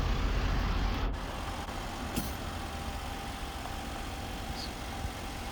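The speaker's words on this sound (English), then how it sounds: "Box tilts all the way up." A 2022 Daihatsu dump truck with a snow plow runs steadily as its power dump box tilts up, a continuous hum of engine and hydraulic pump, fairly close, with a brief click near the start and no talking.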